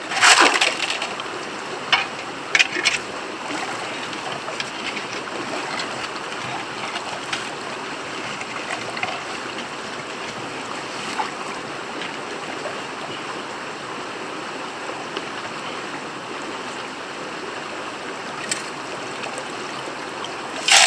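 Rocks and gravel, with some clay, are rinsed and swirled in water, giving a steady close wash of gravelly rattling and sloshing with a few sharper knocks throughout.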